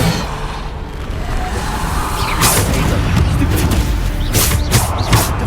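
Bombarda blasting spell cast in Hogwarts Legacy, a muffled booming burst swelling over a dense rumble, with a sharper crack near the end and no voices.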